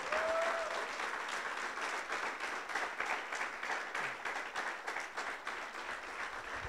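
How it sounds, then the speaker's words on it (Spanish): A church congregation applauds during a sermon, steady dense clapping filling the room throughout. "Aplauda al que vive."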